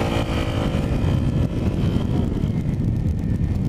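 Motorcycle engine held at around 1,000 RPM ahead of a launch, a steady loud low rumble with a continuous droning tone and wind buffeting, no talk.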